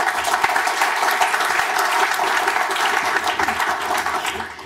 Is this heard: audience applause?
yes